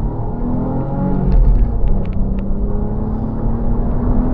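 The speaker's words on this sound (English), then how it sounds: "let's hit the gas and that's the first gear" A Ford Mondeo III ST220 pulls away hard in first gear, its engine rumbling steadily and rising in pitch, heard close and loud from inside the car with no talking.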